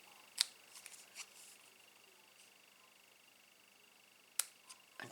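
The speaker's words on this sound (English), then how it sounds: "I just grab my scissors and just follow the line into the corner" Scissors snip through cardstock for a stamped paper craft, a few crisp close cuts spaced out, with a sharp snip near the start and another near the end, against a faint quiet room background.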